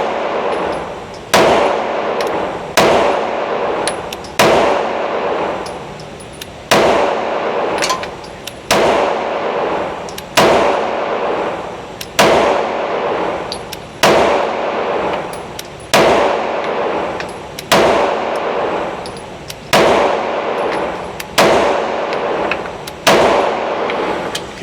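A CZ P10C pistol fires a full magazine at a steady, unhurried pace, about sixteen loud, sharp reports spaced a second or more apart, each with a short ringing tail and no talking.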